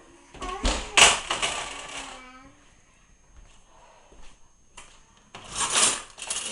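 A big pan is pulled out with sharp metallic clatters and clanks in a home kitchen, a few scattered bursts separated by quiet, with a voice talking in between.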